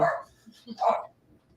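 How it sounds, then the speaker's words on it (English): Dogs barking at a home, two sharp close barks about a second apart with a few softer yips and whimpers between them, alone without talk. "I'm going to go see what they're barking at."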